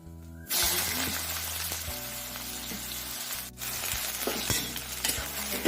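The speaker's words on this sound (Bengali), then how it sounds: "তেলটা গরম হয়ে গেছে দেখো এবার দিয়ে দিচ্ছি পাঁচ ফোড়ন" Panch phoron whole spices drop into hot oil and sizzle loudly, the crackle bursting in after a brief quiet start, with occasional stirring clinks and a second surge of spattering toward the end.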